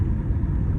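A Jaguar XJ6 X350 with a 3.0 petrol engine gives off a brief, steady low rumble from inside the car while it is being driven.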